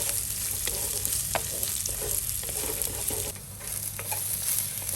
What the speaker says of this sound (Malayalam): നമുക്കിനി ചെറുതായിട്ട് ഇതൊന്ന് ഇളക്കി വെക്കാം.